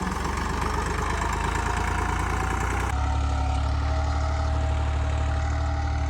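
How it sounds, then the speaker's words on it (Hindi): A large tractor engine runs steadily in a farm field, with a deep, continuous idling rumble close by that shifts to a slightly different steady tone partway through. "बड़ा ट्रैक्टर है जी"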